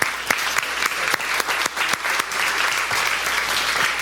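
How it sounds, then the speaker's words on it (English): Workshop audience at a design-thinking session breaks into steady applause, many hands clapping densely at a close, even level throughout with a few sharper claps standing out. "So give yourselves a round of applause."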